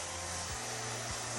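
A hair dryer on medium heat blows steadily on hair at the top of the head, a constant close whoosh with slight pitch dips as it moves, no talking.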